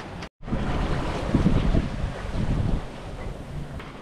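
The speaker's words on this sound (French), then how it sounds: "On a le vent en plein cul" Wind rushes and waves wash around a sailboat running downwind in 16-17 knot winds with the genoa poled out, a steady loud roar of wind noise and surf with a brief dropout near the start.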